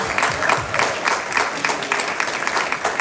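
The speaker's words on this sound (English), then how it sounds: "a big round of applause for both of our teams" Steady applause from a crowd at a school event fills the whole stretch, dense and even, with no pauses.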